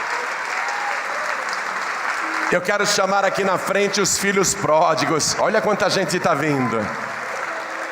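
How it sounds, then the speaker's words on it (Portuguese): Church congregation applauding during a service as people come forward, steady clapping from a crowd under a man preaching loudly over it. "Vamos aplaudir mais, igreja, que está chegando mais"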